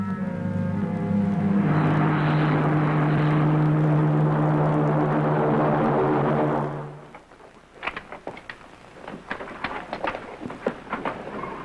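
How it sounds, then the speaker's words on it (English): A 1950s TV spaceship blasts off as a loud, sustained roaring rumble for several seconds, then fades into quieter rattling and crackling noises. "The spaceship blasts off from the enemy planet Regalio and is approaching Herculon for a landing."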